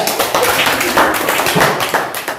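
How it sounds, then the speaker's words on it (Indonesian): A classroom group claps together, a dense, steady patter of many hands lasting a couple of seconds, fairly loud and close with no voices over it. "tepuk tangan kelompok 3"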